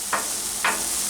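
Onions on a flat-top grill for an In-N-Out style burger, a continuous close hiss of sizzling with two quick scraping flips about half a second apart.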